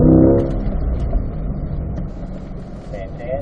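A Corvette C8 engine pulls under throttle on a racetrack, a steady low drone that fades slightly after a louder start, with coaching voices talking over it.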